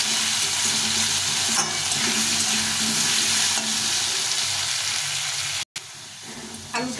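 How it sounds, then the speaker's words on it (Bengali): Potatoes seasoned with salt and turmeric frying in hot oil, giving a steady, dense sizzle that runs throughout, close and loud, cut by one brief gap near the end. "আলুটাকে ভেজে নেব।"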